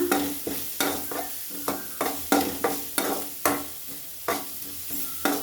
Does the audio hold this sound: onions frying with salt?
yes